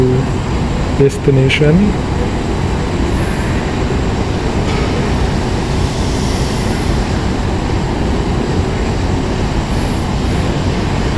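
The twin turboprop engines of a de Havilland Canada DHC-6 Twin Otter on takeoff in the X-Plane 11 flight simulator make a steady, continuous roaring drone that runs throughout, with a voice speaking over it near the start.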